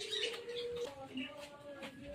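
Racing pigeons entered in the One Love Race coo softly amid light chirps, close by and low in level, while a person talks at the same time.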